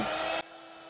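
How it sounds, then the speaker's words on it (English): A heat embossing tool blasts hot air onto loose specialty embossing powder, a loud steady whooshing blower that cuts off abruptly partway through, leaving a quieter hum. "we're going to heat emboss it from the bottom so they don't all fly away"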